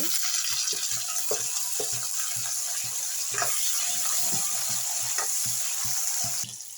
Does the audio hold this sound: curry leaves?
yes